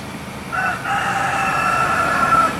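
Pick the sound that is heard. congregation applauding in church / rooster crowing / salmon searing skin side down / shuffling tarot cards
rooster crowing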